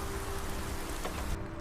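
Steady rain falls around Whiterun in Skyrim, a faint, even hiss of drops on surfaces with a low rumble underneath, continuous and without speech.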